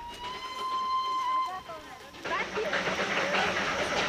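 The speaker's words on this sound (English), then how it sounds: "18 little locomotives run back and forth on the Darjeeling Himalayan line." A small locomotive on the Darjeeling Himalayan Railway sounds a long whistle, then bursts of hissing steam and rolling rail noise take over, loud and close.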